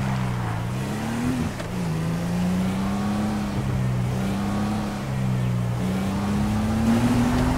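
A car driving in the video game GTA, a steady loud engine drone with gentle pitch rises and dips as it cruises and slows, with a voice talking faintly underneath.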